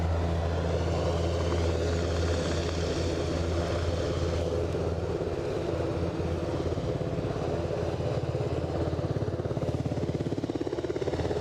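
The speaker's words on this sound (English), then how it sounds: "So I said this was a 72, and so it was. ATR 72-500." A Loganair ATR 72-500 turboprop drones with a steady, loud propeller and engine roar at Aberdeen airport, holding constant throughout.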